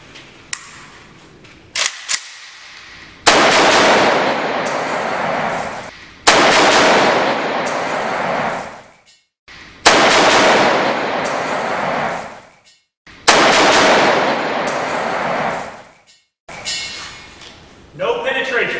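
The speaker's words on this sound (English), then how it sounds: "This is my AK-47, and today I get to shoot my boss." AK-47 rifle shots ring out in several long, loud bursts, each a sharp blast trailing into a decaying echo, separated by brief pauses, with people speaking in the gaps.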